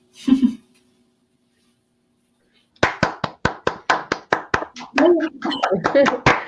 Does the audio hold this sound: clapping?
yes